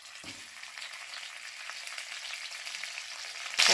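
Katla fish head frying in hot mustard oil, a steady close crackling sizzle throughout, with a brief soft knock near the start and a louder burst of sizzle at the very end.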